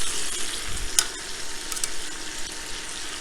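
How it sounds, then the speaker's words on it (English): Chicken thighs fry in a pan with a loud, steady sizzle and crackle close by, broken by a few sharper pops and spatters. "I'm going to fry these up for another 15 minutes"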